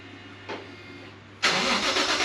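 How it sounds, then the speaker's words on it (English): A Toyota JZX100 engine cranks briefly, then catches and roars into a loud, steady exhaust rumble, now without exhaust leaks, that continues to the end. "Do you want to just fire it for us? I want to hear what the exhaust sounds like without leaks."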